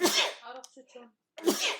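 A single loud sneeze bursts out near the mic, followed by a few muffled spoken words and then a second sharp exhale or sneeze-like burst, during an online webinar.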